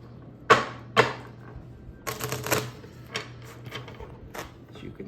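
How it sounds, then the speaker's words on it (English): A standard deck of playing cards being shuffled up close, with two sharp snapping riffles followed by a burst of rapid fluttering card riffle and a few softer taps and shuffles afterward, with no talk. "I'm going to shuffle."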